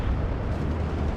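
Continuous rumbling explosions and battlefield blasts from the World War 2 strategy video game Steel Division 2, a dense, loud, steady barrage with no clear pauses between bursts.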